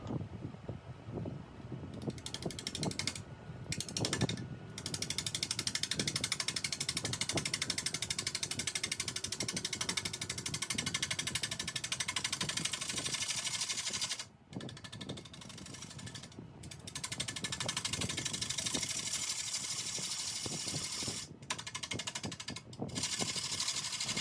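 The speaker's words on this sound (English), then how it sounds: "I'm going to turn it without the tailstock in place, and you can see this really nice swing away feature the robust lathe has." Wood lathe turning a cedar burl bowl without the tailstock, giving a steady, loud whirring drone with a gritty scraping texture from the tool. It runs nearly the whole time, broken by a few brief dips.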